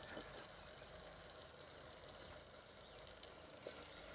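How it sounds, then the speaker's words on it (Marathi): Masala-stuffed brinjals frying in a pan with tomatoes, likely over a traditional wood-fired village stove, giving a faint, steady sizzle with no voices. "मसाला भरलेले वांगे त्यामध्ये आपण सोडणार आहोत"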